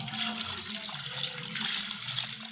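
Tap water runs steadily into a pot of rinsed lentils set to soak, a continuous close splashing and gurgling stream with no speech over it.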